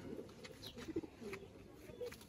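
Pigeons at a home loft coo softly in the background, faint low throaty calls repeating at intervals amid quiet room noise.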